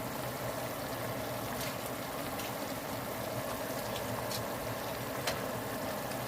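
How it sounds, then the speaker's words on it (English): Water at a rolling boil in a pot on the stove for rice, a steady close bubbling hiss with occasional soft pops and no voices over it. "So my water is boiling for the rice."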